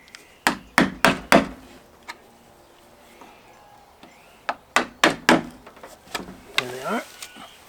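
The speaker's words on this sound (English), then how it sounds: "So taking an old screwdriver, find out where the ends of the nails are." An old screwdriver knocks and pries at nails in wood, producing a string of sharp, close wooden taps and thunks in uneven bursts, with a person speaking between them.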